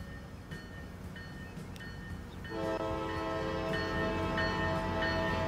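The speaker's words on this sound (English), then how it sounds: "I think we'll take a ride on that train." A passenger train in the Transport Fever 2 game rolls along as a soft, steady rumble that grows fuller partway through, with faint horn-like tones layered over it and no voices.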